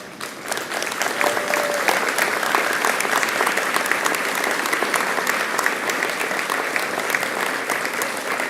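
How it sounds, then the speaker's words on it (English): A graduation ceremony audience applauding, dense, steady clapping from a large crowd that sustains at full strength throughout. "turn to the people who are here supporting you today and give them a round of applause"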